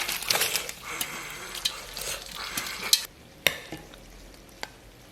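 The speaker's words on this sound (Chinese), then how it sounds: "咱们把酸菜给它放到锅中" Sauerkraut going into a pot of braising pork ribs, with close stirring, scraping and sizzling and sharp utensil clicks against the pot, fairly loud at first and then quieter with scattered knocks.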